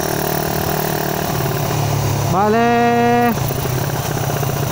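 A Suzuki Raider 150 Fi motorcycle idles steadily and close by, and one rising rev near the middle lifts its pitch for about a second before it drops back. A single short spoken word sits over the engine.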